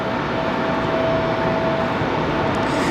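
A Delta A320 airliner takes off at Raleigh-Durham airport, its jet engines producing a steady, broad roar that stays loud and constant, heard from a distance.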